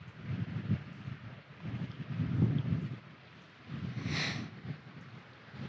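Wind gusts outdoors at a campsite in the Texas Hill Country, heard as a low, faint rumble buffeting the microphone in uneven swells, with no voices.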